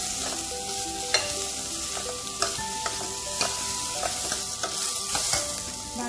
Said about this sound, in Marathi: मक्याचे दाणे पण घालते, 3 ते 4 मिनिट हे परतून घ्यायचं आहे